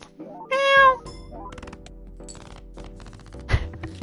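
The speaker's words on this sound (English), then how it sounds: "Got him with that meow at the end." A cat's meow sounds once, loud and close, among game sound effects and background tones during a Balatro session, with a short thump near the end.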